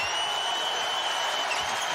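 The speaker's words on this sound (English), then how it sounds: "Crowd really responding to that defensive sequence." A college basketball crowd at Clemson versus Virginia applauds and cheers steadily after a defensive stop, a dense, even wash of clapping and crowd noise with no talk over it.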